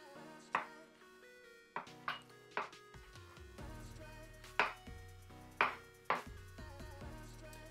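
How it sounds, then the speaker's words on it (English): Bluefin tuna chopped into tiny pieces on a board, a handful of sharp, close knife strikes at irregular intervals over quiet background music. "make it into little tiny pieces so then I can go ahead and start mixing it into the dish"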